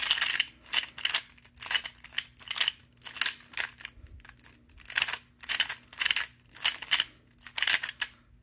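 An MGC EVO magnetic Pyraminx puzzle turned in quick repeated bursts, each move giving a sharp close clack of snapping magnets in a steady rhythm, with brief silent gaps between groups of turns and no voices.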